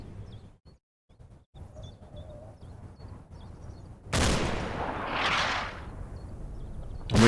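Gunfire in the World War II game Combat Mission: Battle for Normandy: a quiet stretch of scattered distant shots, then a sudden loud burst of heavy fire and a rumbling blast, with another sharp report at the very end.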